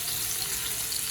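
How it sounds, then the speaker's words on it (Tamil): Vanjaram fish fries in oil on a flat tawa with a steady, even hiss and crackle of sizzling throughout, close and moderately loud. "இந்த மாதிரி ஃப்ளாட்டாக இருக்கிற இதில் இந்த வஞ்சர மீனை இப்படி பொரிங்க"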